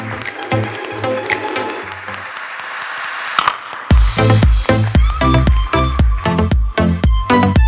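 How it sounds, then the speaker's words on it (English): Applause at the closing ceremony of the EBEC Final 2021 engineering competition, steady crowd clapping through the first half, then louder, closer rhythmic claps with a few heavy thumps toward the end. "Another applause here."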